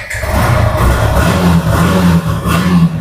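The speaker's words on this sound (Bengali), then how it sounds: "সুরেশ দেখো আমাদের বন্ধুদের একবার স্টার্ট করে দেখিয়ে দাও ইঞ্জিন কন্ডিশন।" A used motorcycle engine, its condition being shown at a showroom, runs in neutral and is revved steadily, a loud, close, continuous roar with slight rises in pitch and no talking over it.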